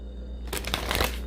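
A deck of tarot cards is shuffled close up, a quick burst of riffling flutters that starts after a short quiet moment and runs to the end.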